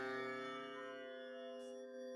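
Machine-learning generated instrument tone at MIDI pitch 48, a single sustained harmonic note, rich in overtones, that starts firmly and slowly fades while holding steady, quiet and alone.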